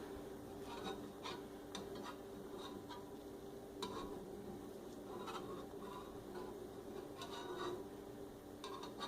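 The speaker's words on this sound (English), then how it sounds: "I'm just going to take my spatula and move around the egg a little bit" Spatula scraping and pushing egg around a pan for an omelet, a soft continuous rasp with faint sizzle and light scrapes repeating through, quiet and close.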